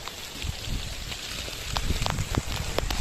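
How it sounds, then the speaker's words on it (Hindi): Heavy rain falls steadily on a mountain pilgrimage trail to Shrikhand Mahadev, a dense close patter broken by sharper individual drops striking nearby surfaces. "बारिश बहुत तेज हो रही है"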